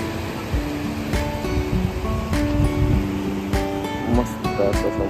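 Sea waves wash steadily onto Mandavi Beach in Ratnagiri on the Kokan coast around sunrise, a continuous broadband surf roar with faint tonal sounds drifting over it.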